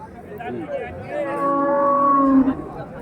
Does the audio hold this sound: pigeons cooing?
no